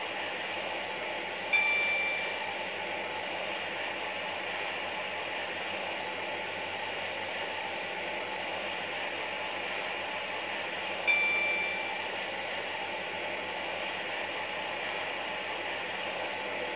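A Connect passenger train runs in the Stepford County Railway video game: a steady, even rolling rush of noise throughout, with two brief electronic chimes spaced well apart and no talking.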